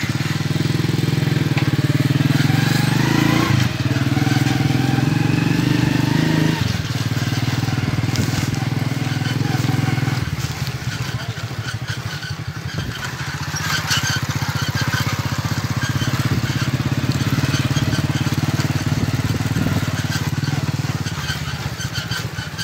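A motorcycle engine runs in the village lanes of 193 GB in rural Punjab, Pakistan, with a loud, steady droning hum that holds close and continuous throughout with small shifts in tone.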